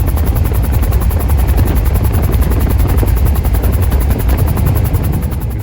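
A Bell 205 helicopter flying over Death Valley gives a loud, steady, close rotor roar with a fast rhythmic thumping that continues the whole time, with no voices.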